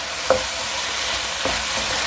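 Chicken with ginger paste fries in a pan while being stirred, a steady close sizzle with two brief scraping stirs, with no talk over it.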